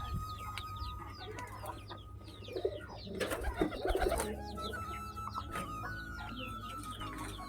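Pigeons return one by one to an opened coop, with faint cooing and soft clucking calls and a brief flurry of busier activity midway, all fairly quiet against a low background hum.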